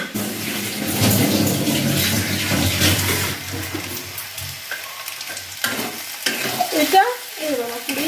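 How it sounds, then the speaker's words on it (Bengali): A vegetable curry of onion, green chili and raw banana fries in a pan and is stirred: a crackling sizzle with scraping strokes, thinning toward the end, where brief scrapes and a faint voice come through. "তরকারিটা নেড়ে দিই, নাহলে পুড়ে যাবে"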